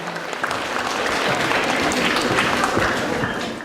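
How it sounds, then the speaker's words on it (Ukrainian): An audience at a dance-class anniversary concert gives an ovation, dense enthusiastic clapping swelling steadily over a few seconds and then easing off, with no voices over it. "Звучать овації оплески для самого дорогого, самого найкращого педагога"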